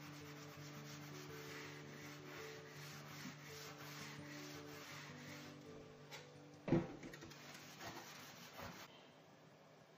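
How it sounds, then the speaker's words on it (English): Surface rust being scrubbed off an old hand saw blade, a quiet, steady rubbing and abrading texture with a faint background hum and one brief knock near the end. "when you've gotten a lot of the surface rust off, you can feel it's a lot smoother when you scrub it."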